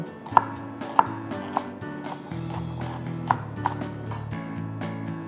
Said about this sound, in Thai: ต้นหอมนะครับซอยเตรียมไว้เลย ให้ซอยแบบ ใหญ่นิดนึง